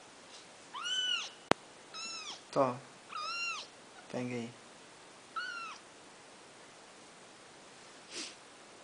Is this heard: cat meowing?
yes